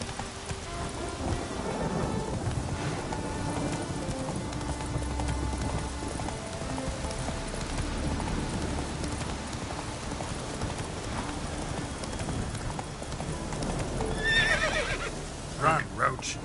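Roach the horse in The Witcher 3 gallops with steady rhythmic hoofbeats and lets out a neigh, set against rain and rumbling thunder; a voice speaks briefly over the storm.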